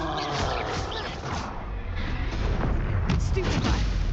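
A Confringo fire spell blast in the Hogwarts Legacy video game lands amid a loud, dense barrage of booming combat effects that rumble continuously across the whole stretch.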